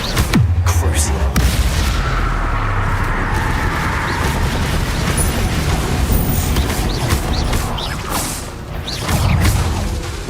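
Bombarda explosion spells booming repeatedly in Hogwarts Legacy combat, loud and dense with whooshing magic and crashing impacts under constant game noise and voices.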